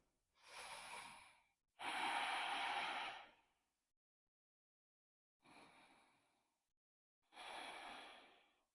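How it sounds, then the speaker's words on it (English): Deep, slow breaths during a hip-opening vinyasa yoga practice come in four long, close inhales and exhales separated by silent pauses, breathy and soft without any talking. "Feel the belly rise with the inhale and fall with the exhale."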